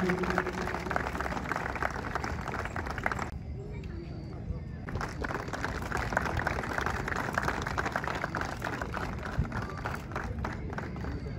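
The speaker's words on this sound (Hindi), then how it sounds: "तालियां।" Audience applause for a Nokte tribal group after a traditional dance performance at a World Heritage Day event, a dense, continuous clapping wash from a large outdoor crowd that briefly drops away then resumes.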